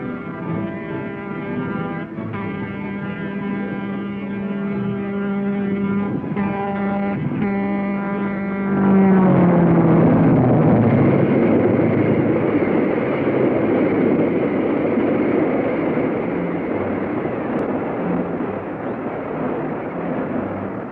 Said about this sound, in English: observe the passing train and see that all is well